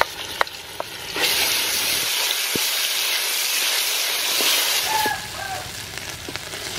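Chopped dry sweet pepper frying in a pan for beef stew, a steady close hiss and sizzle that swells after a second, with a few clinks from stirring.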